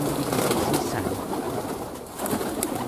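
Crossbred pigeons in a breeding flock, with overlapping soft cooing from many birds close by, continuous and fairly loud against a busy coop background.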